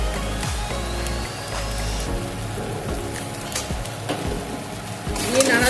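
Fish filling with chopped coriander is stirred in a pan, giving a steady close sizzle with scraping strokes that continue throughout.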